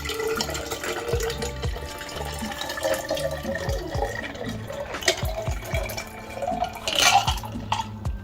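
Water runs and splashes into a color change tumbler, a steady trickling pour with small drips and clinks, fairly close and without talk.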